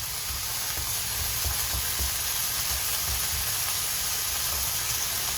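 Frozen okra, a quarter packet, hits a hot pan in an Indian kitchen and sizzles steadily, a loud continuous frying hiss with faint stirring clatter underneath, no voices.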